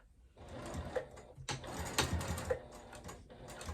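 A home sewing machine stitches slowly across nylon coil zipper tape on a wristlet pouch, giving a close, busy run of rapid mechanical clicking with uneven surges and short pauses.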